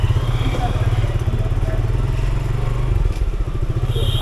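Someone rides a motorcycle while someone talks over a loud, steady engine rumble that pulses rhythmically and stays close throughout.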